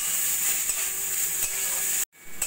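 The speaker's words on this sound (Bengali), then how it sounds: "মিশিয়ে নিয়ে একটু ভাজা ভাজা করে নেব।" Chicken with green chilli, onion, capsicum and corn frying and being stirred in a pan: steady close sizzling with scraping stirs, then a brief cut to near silence before the sizzle resumes.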